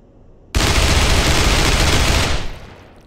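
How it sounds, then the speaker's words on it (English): A Soviet submachine gun fires one sustained, loud automatic burst of about two seconds in the game People Playground, starting abruptly and then tailing off. "How about you gave me a Soviet submachine gun?"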